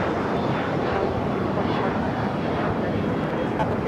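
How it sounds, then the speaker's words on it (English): A Hawaiian Airlines Dreamliner taxis at LAX, its jet engines a steady broad roar, with a voice talking over it throughout. "is that Hawaiian Dreamliner Flight 3 heading to Honolulu. We'll start his taxi over here."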